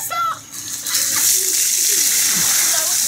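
A bucket of ice water is poured over a person for the ALS Ice Bucket Challenge, giving a loud, steady rushing gush and splash up close, with faint voices in the background.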